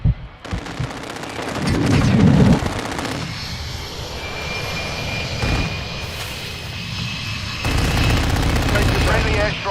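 Rapid gunfire crackles through a military video game battle alongside a droning aircraft engine, with shouted voices over the shooting.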